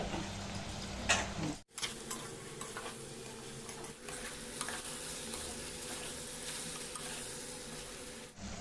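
Cauliflower pieces frying and being stirred in a pan of curry for hotel-style poori curry, a steady close sizzle with scraping stirs and a brief break partway, no talk.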